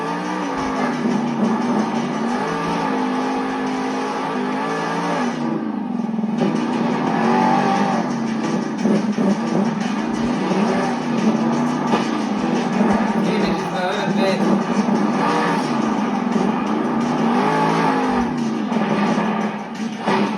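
The Bakugan Monster Jam truck's engine revving hard through a run at a stadium in Glendale, Arizona, a loud, continuous roar rising and falling with throttle, with crowd noise and an announcer beneath.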